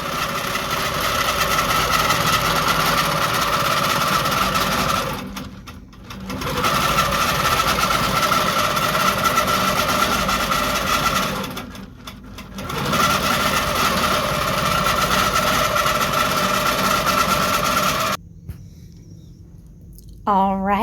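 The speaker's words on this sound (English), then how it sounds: "I'm going to turn the stitching on my machine and hit my check mark on my display. And our feathers are going to stitch out." A quilting sewing machine stitches a feather pattern in a steady, loud mechanical whir. It runs continuously, stops briefly twice, then halts near the end.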